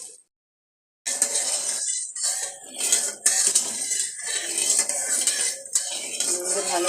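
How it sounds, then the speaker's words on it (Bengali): A spoon or spatula stirs salt through hot oil in a metal kadai, scraping and clinking against the pan in repeated close strokes with short pauses and no talk. "ভালো করে নুন দিয়ে কড়াইটাকে নাড়িয়ে তেলটাকে ভেজে নিলাম"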